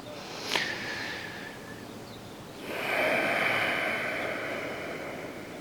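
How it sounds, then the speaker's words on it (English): Slow, deliberate breathing during a yoga flow class: a short sniff, then a long, hushed inhale, a quiet gap and a drawn-out airy exhale, close-up with no talking. "Now consciously slow that breath down."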